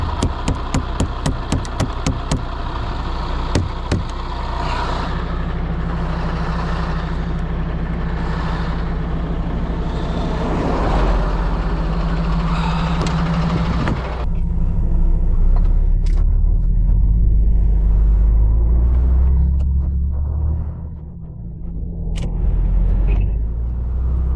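A truck driving through snow in rural Hungary rumbles steadily with a deep engine drone and road noise, starting with a quick run of rhythmic ticking like hazard lights, then the engine note swells and dips as it moves on.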